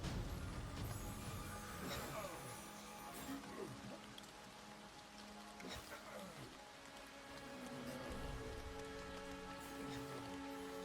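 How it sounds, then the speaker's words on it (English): Steady rain falls on surfaces during a battle against orcs in the fantasy game Monsters & Memories, a continuous dense patter with faint clinks and scattered sounds of fighting underneath. "the rain washing blood from my blade"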